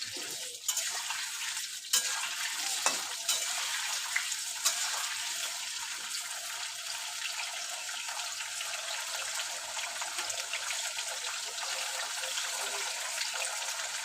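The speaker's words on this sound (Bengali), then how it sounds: "প্রথমে আমি আলুটা ভেজে নেব।" Potatoes fry in a pan of hot oil for a Bengali cauliflower, potato and prawn curry, giving a steady bright sizzle that runs the whole time, with a few sharp clicks and scrapes near the start.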